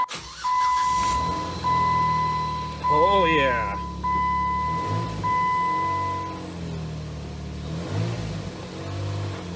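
A jeep engine with a freshly fixed exhaust leak cranks and catches, then revs up and settles into a rumbling idle, with a person briefly speaking over it.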